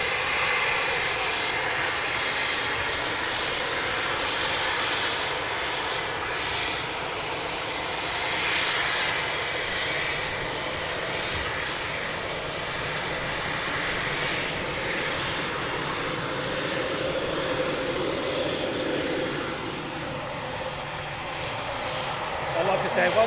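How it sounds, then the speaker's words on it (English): Military jet aircraft taxiing toward the runway threshold at RAF Coningsby, a steady distant engine whine and rumble with a swelling roar near the end, while someone talks over it. "So the one to the right is just beginning his taxi roll to the threshold."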